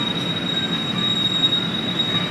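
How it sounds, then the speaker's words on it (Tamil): A WDP4D diesel locomotive hauling a passenger train at night gives a steady, loud rumble of wheels and carriages with a thin high whine running throughout. No distinct horn blast stands out. "WDP4D சைரனே உங்களுக்கு தெரியும்னு நினைக்கிறேன் சவுண்டு."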